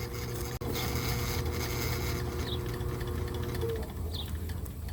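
A Vevor electric drain auger running steadily, a loud continuous motor whir and rotating cable rumble that cuts out for an instant and then resumes.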